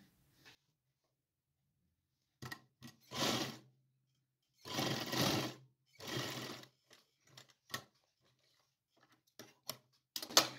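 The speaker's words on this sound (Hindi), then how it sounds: "इसको यहाँ तक सिलाई लगा लेते हैं" A sewing machine stitches a small winter night dress for a doll in short bursts, each run lasting about a second, separated by quiet pauses and light clicks, close and clear.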